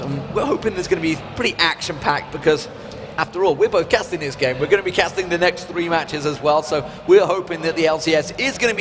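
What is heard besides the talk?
None of the usual background noises is heard.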